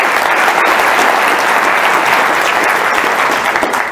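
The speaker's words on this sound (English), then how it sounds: "give them a round of applause as they come up" A large audience at a stage magic and mentalism show applauds loudly and continuously as volunteers make their way onto the stage.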